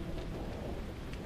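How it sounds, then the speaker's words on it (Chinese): Heavy rain pouring down in a dense, continuous roar with a deep rumbling undertone, loud and steady throughout with no voices. "下这么大雨"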